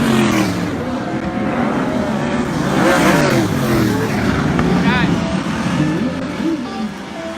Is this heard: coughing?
no